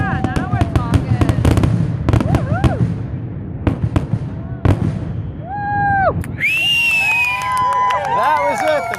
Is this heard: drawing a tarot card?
no